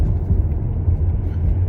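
Inside a car on the move, a steady low road rumble and engine drone fill the cabin evenly and without any talk.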